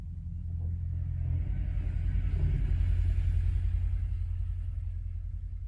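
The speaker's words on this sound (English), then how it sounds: "I accept the traffic sounds as I focus again on body scanning" Road traffic passing outside a window, a low muffled rumble that swells as a car goes by and then fades, steady and unobtrusive with no talking.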